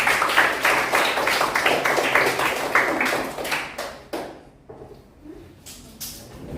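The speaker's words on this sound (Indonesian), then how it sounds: "Tepuk tangan dulu." A classroom of students claps for a presenting group, a brisk, crowded patter of hands for about four seconds that thins into a few scattered claps and fades.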